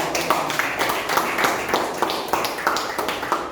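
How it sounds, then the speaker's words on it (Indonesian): A small audience in a classroom gives a round of applause at the close of a school presentation: light, fairly even claps, close and moderately loud, lasting a few seconds. "Tepuk tangan dulu buat"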